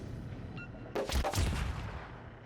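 Warship guns firing high-explosive shells in the naval combat game World of Warships, a loud burst of several overlapping booms that fades out under steady background noise.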